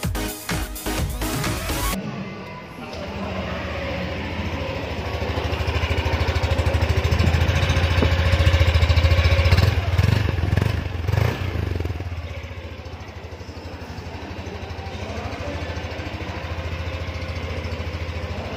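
A Yamaha Nmax 155 scooter from 2020 idles close by with a steady low engine hum that starts after a brief opening noise and holds evenly to the end, with no talking.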